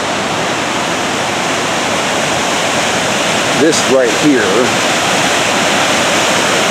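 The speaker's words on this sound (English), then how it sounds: "This is White Horse Falls." White Horse Falls in Umpqua National Forest, a waterfall beside a parking lot, gives a loud, steady broadband roar that fills the whole clip while a voice speaks briefly over it.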